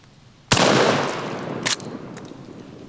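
A single loud blast from a lever-action 12 gauge shotgun loaded with number 7 birdshot, a sharp report with a long decaying roar, followed by a faint secondary crack as it fades outdoors.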